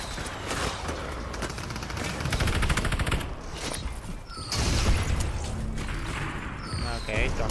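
Hand cannon shots ring out in Fortnite, a series of loud bursts mixed with clattering mechanical effects and bright crashes, with a pause midway before the firing resumes.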